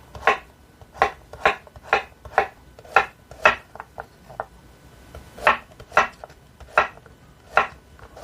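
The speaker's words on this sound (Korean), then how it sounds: "먼저 애호박 반으로 가르시고 반달 모양으로 썰어 주세요" A knife cuts halved zucchini into half-moon slices on a cutting board, giving a steady series of crisp, close chops in an even rhythm with a brief pause midway, no voices.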